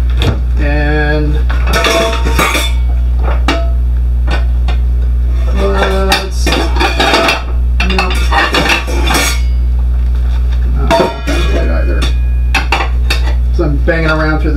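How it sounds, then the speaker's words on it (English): Ceramic plates clatter and clink as someone rummages through a kitchen dish rack, a series of sharp irregular knocks close by over a low steady hum. "banging around through the dish rack."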